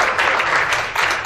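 An audience at a humming-technique workshop launch applauds composer Johari Teh, a dense, even wash of clapping hands filling the short moment without a break.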